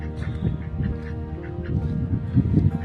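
A duck quacks repeatedly at close range, with several bursts of nasal quacks in an uneven rhythm. Other fowl calls mix in, and there are no clear voices.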